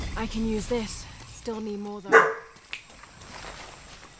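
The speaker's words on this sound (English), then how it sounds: "sorry, excuse my dog" A dog barks a few times indoors, the barks mixed in with someone talking over video game sound.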